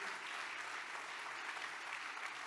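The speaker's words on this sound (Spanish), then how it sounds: "Dele ese fuerte aplauso al Señor." Steady applause from a church congregation at a Spanish-language service, a dense, even wash of many hands clapping at once, moderately distant and continuing without a break.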